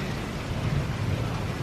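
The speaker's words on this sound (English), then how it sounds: "Thunder." Low rumbling thunder rolls steadily beneath a backyard rainstorm, a continuous deep roar with no distinct crack, moderately loud and unbroken for the whole stretch.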